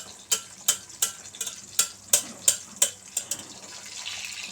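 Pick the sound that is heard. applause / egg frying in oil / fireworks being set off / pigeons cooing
egg frying in oil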